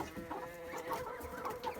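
Rooster clucking in a short, faint run of low repeated clucks on a poultry farm, close by with light background noise.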